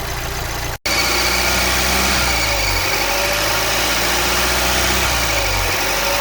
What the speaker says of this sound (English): There's the squeal that you hear when this is bad.